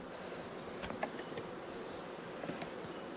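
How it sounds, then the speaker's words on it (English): Honeybees buzz close by around their hives, a soft droning hum with individual insects zipping past, faint and outdoors, with no talking. "So these bees are able to pollinate this whole area year round"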